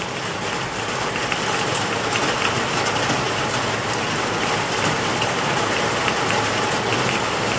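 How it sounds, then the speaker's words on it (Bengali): Heavy rain pours down steadily on a day of Janmashtami festival preparations, a dense continuous hiss of drops drumming on surfaces, close and loud with no voices. "আবার জোরে বৃষ্টি শুরু হয়েছে এই রোদ উঠেছিল এই আবার বৃষ্টি পড়ছে"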